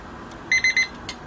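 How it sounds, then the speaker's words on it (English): A remote digital meat thermometer sounds its temperature alarm: three quick, bright electronic beeps in a row, clear and close against a quiet background. "Now you'll see that this alarm is going off because the temperature was set to 170, which it has exceeded now."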